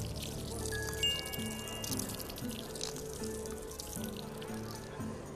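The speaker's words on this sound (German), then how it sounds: "Kommen in ein halb Water, ein halb Honig. Also halb Wasser und halb Honig." Water and honey poured into a bowl in the VR cooking game Lost Recipes, a steady soft trickling pour running under a low musical background, with a few faint clinks.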